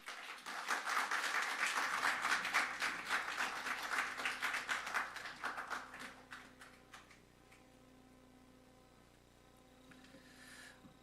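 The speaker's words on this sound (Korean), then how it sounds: "우리 김두한 성도님이시면 나오실 때 좀 박수로 우리 환영해 주시기 바랍니다." Church congregation clapping to welcome a speaker to the front, a steady mass of applause that fades after about six seconds into quiet room hum with a faint rustle near the end.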